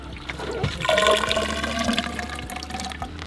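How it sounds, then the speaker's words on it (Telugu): A glass of water poured into a bamboo stalk for chicken biryani, a close gurgling, splashing pour that swells and then trails off over a few seconds. "మళ్ళీ 1 గ్లాస్ వేసి మళ్ళీ 1 గ్లాస్ వాటర్ నింపుతాం"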